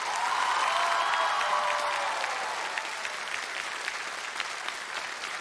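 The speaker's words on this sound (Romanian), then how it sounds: "aplauze pentru Marin" A studio audience at the iUmor comedy TV show applauds a comedian, loud and dense clapping that starts strong and gradually thins and softens toward the end.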